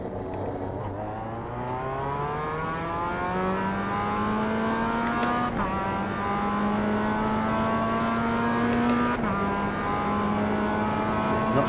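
Mazda MX-5 Cup car engine in the iRacing sim at The Bend West Circuit, a steady drone rising through the revs with clean gear shifts around five and nine seconds, close and continuous with no talk.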